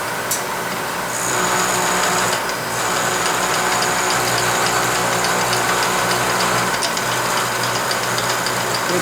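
A milling machine spindle whines steadily at a higher speed with a smaller cutter fitted, close and loud, under a constant mechanical hum with a few faint clicks.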